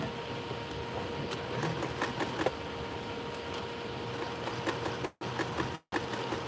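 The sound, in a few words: sewing machine sewing denim waistband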